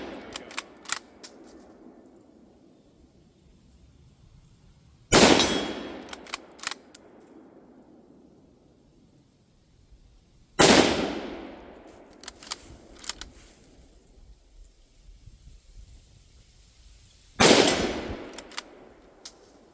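A Carcano rifle fires three loud, sharp single shots spaced several seconds apart, each with a ringing decay, while fainter metallic clicks and handling noises fall between them.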